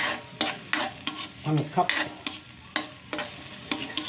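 Tocino ingredients are sautéed in a pan, with a soft sizzle broken by repeated sharp stirring scrapes and clacks of a utensil, roughly two per second, close and with no talk.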